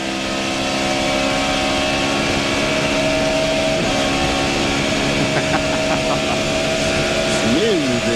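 A NASCAR stock car engine at the 2000 Pocono 500 roars at high revs, dropping in pitch and climbing again as it shifts gear, with a voice speaking over it.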